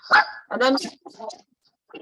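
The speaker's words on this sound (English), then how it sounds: "sorry about the dog" A dog barks in short bursts near the microphone in an indoor setting, with a few sharp yips between and over someone speaking briefly.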